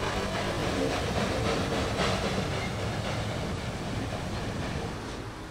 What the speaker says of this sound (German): Diese Dampflok geht ans Zugende und schiebt.